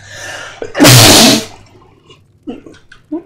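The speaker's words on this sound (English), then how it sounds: "Sneeze." A single loud, close sneeze during a Fallout New Vegas playthrough, a brief intake followed by a forceful burst, then faint breathy rustles.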